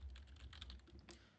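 Keystrokes on a computer keyboard as a terminal command is typed, a quick irregular run of close, quiet taps with no talking.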